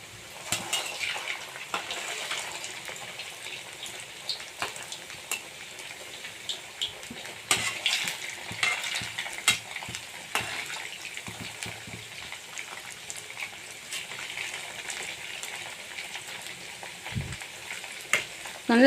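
Leftover idli bonda frying in oil in a pan over low heat, with a steady soft crackle and sizzle throughout and occasional clinks of a utensil turning the pieces, no voices.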